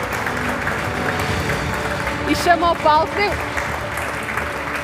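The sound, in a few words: audience applause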